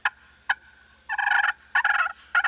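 A slate turkey call gives a couple of sharp clucks, then several rolling bursts, close and clear with no voices.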